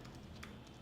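A few soft, quiet keystrokes tap on a computer keyboard while a search keyword is typed, brief and close.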